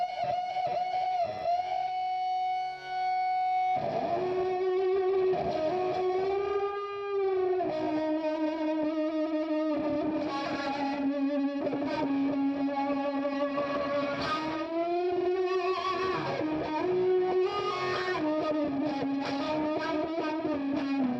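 A distorted electric guitar plays sustained, gritty notes and bending melodic lines with an effects-laden tone, loud and continuous with no talking.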